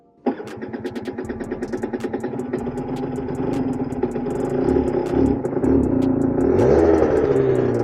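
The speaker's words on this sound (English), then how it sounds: "let's give it a cold start" A 125cc motorcycle engine cold-starts after a sharp crank, sputtering in fast rhythmic pulses before catching and settling into a louder, steadier idle that rises slightly toward the end, close by with no talk.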